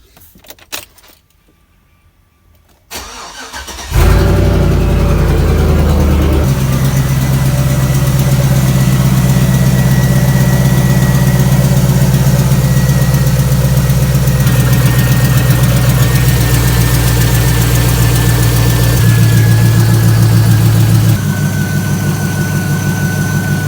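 A truck fitted with a Tru-Cool transmission cooler for its 4L60E gearbox: keys jangle, the starter cranks briefly, and the engine catches and settles into a loud, steady low idle close by that runs to the end.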